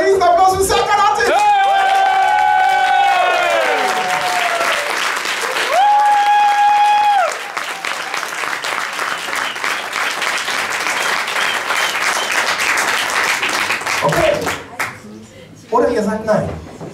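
Large audience at a talent show year-end final in a pool garden venue bursting into loud, sustained applause and whoops, with an amplified voice and sung or shouted tones riding over the clapping near the start.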